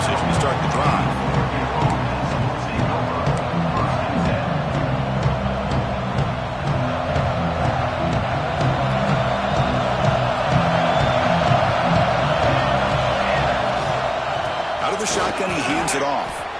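Dense, steady crowd roar fills a football stadium throughout, loud and constant, with a play-by-play commentator talking over it and a brief burst of sharper noise near the end.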